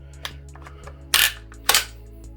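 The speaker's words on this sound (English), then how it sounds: "So when you charge it, that's why you get that little brrr noise." A short metallic rattle and clicks from the dust cover, then two sharp mechanical clacks of an FN PS90 rifle's charging handle being pulled back and released, close up.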